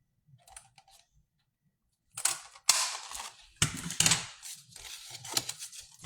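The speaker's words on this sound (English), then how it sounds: "I'm just taking my 1 3/4 inch punch." A 1 3/4 inch paper punch cutting a half circle from paper, heard as a few light clicks followed by several loud, sharp mechanical snaps and crunches with short pauses between them, close up.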